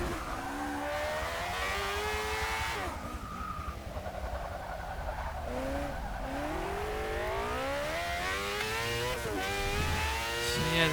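A race car in Forza Motorsport 6, heard from the cockpit, revs hard through repeated upshifts and downshifts, its engine pitch climbing and dropping with brief tire squeal, loud and continuous with no talking.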